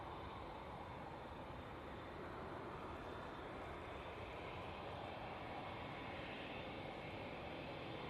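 A TUI airliner passes overhead at Manchester Airport, a steady, loud, broadband engine roar that holds evenly throughout with no talk.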